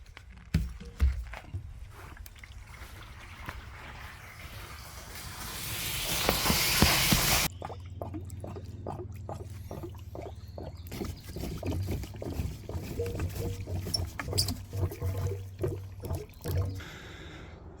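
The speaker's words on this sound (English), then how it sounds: "We've got the water from the canal coming in here. This is the transfer tank." Canal water rushing into the transfer tank of a hydraulic ram pump: a loud, hissing gush at first, then a sudden drop to a steadier flowing and gurgling stream with a low rumble underneath.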